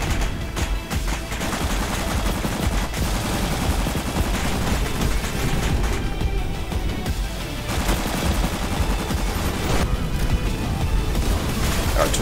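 Sustained battlefield gunfire in a Roblox war game, with dense overlapping rifle and machine-gun bursts and occasional heavier artillery thumps forming a continuous loud din that never pauses.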